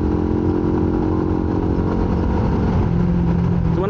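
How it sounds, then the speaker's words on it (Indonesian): A big motorcycle rumbles along the road on a tour toward Sragen, a loud, continuous engine drone close by with slight shifts in pitch as it moves. "motor gede gitu."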